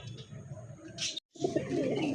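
A female pigeon at a pigeon farm sale gives soft, close cooing in a short clip, with a brief silent gap midway and low background murmur.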